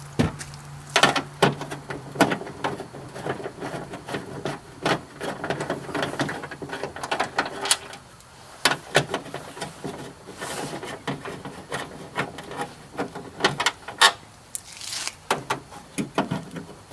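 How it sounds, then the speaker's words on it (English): A 12mm socket works bolts loose on a Subaru Forester rear latch, giving irregular close clicks, knocks and metallic taps spread over several seconds with short quiet gaps. "Let me just take a 12mm socket,"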